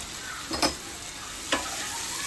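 Boiled, drained potatoes stir-fried in a pan for a potato poriyal, a continuous soft sizzle broken by two sharp scraping stirs, no one speaking.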